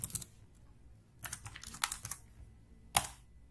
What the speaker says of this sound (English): Over here let's type a simple print statement